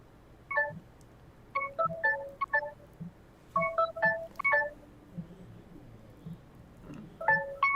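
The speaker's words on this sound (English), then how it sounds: "There's a bleep bleep bleep noise." An appliance's notification beeps in short melodic bursts, like a ringtone, repeating in clusters with pauses between them, clear and fairly close.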